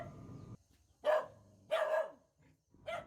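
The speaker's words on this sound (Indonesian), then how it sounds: "dijaga dengan anjing-anjing yang tentu akan menggonggong ketika ada orang-orang tak" Dogs guarding houses in a Toraja village bark at strangers, three loud separate bursts of barking close by with short pauses between, no talk.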